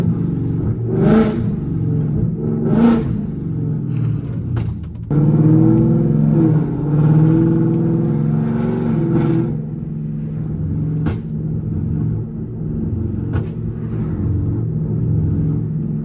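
Deep, loud revving of a 2024 Ford Mustang GT V8 heard from inside the car: two sharp throttle blips, then a sustained rumbling rev that settles into a burbling idle with a few more short blips.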